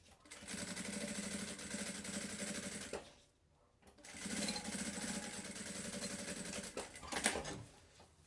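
A sewing machine stitches the spine of a Bible cover with a steady, close mechanical whir in two long runs, separated by a brief pause.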